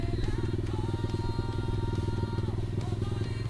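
XSR motorcycle with strong torque climbing a very steep dirt trail, its engine droning loud and close with a rough pulsing note as it labors uphill.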